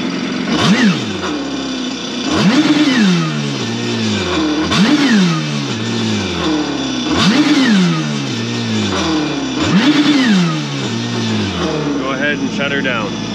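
A supercharged 2022 Kawasaki Ultra 310 LX jet ski engine is revved in five sharp bursts, each rising quickly and falling back toward idle, loud and close.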